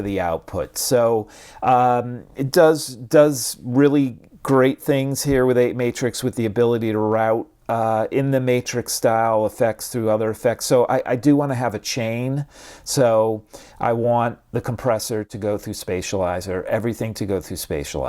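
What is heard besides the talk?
No everyday noise stands out behind the speech.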